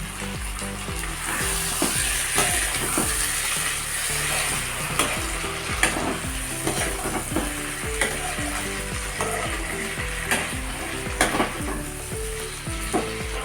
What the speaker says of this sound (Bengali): শুকনা লঙ্কা বাটা আদা বাটা কাঁচা লঙ্কা বাটা এক চামচ পেঁয়াজ বাটা সবগুলো এবার কষে নেব ভালো করে